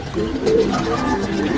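Low, soft cooing of homing pigeons arriving at a loft close by, a few rolling coos blending together over a faint outdoor background.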